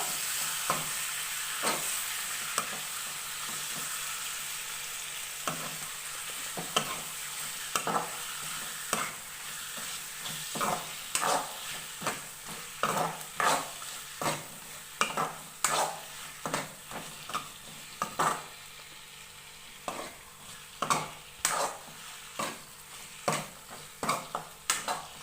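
Goat mutton fries in a pan over a medium gas flame, a steady sizzle broken by frequent scraping stir strokes that clack against the metal in an uneven rhythm, close and fairly loud, with no talking.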